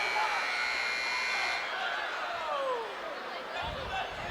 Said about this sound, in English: That is a long sounding buzzer.